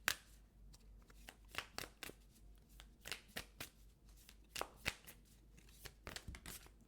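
A deck of Sacred Self-Care Oracle cards being shuffled by hand, with close, quiet riffling and sharp flicking bursts in an uneven rhythm and no talking.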